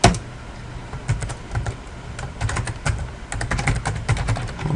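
A run of brisk keystrokes on a computer keyboard as a command is entered at a command prompt, close and clear, in uneven bursts with short pauses.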